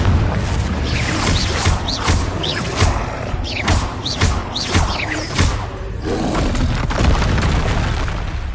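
Confringo fire blast spell from the Hogwarts Legacy video game, a series of booming fiery bursts with whooshing tails, loud and close over a continuous roar of game action and music.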